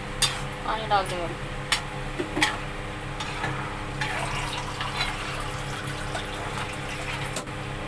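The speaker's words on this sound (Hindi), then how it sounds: "पानी डाल दो।" Water is poured into a cooking pot in a home kitchen, giving splashy gurgling bursts and metallic clinks early on, then a softer steady trickle, with voices talking in the background.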